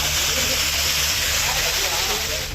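Water pours down the Courtallam waterfalls in Tenkasi in a loud, continuous hissing roar, with a voice talking over the rush.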